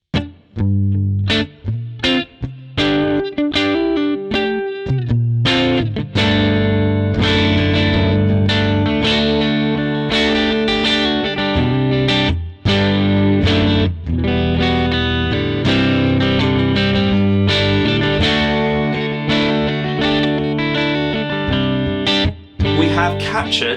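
Distorted electric guitar through an Amplitube TONEX amp model, playing chords and riffs with a wash of reverb and effects, loud and continuous with brief gaps.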